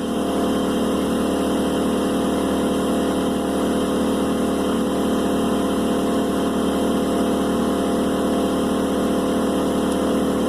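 A gas-engine air compressor in an off-grid shop runs without pause, its loud, steady engine drone holding at an even pitch.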